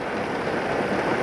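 Rain falls steadily beside gator ponds, a dense, even hiss of drops on surfaces with no breaks, loud and close, with no voices.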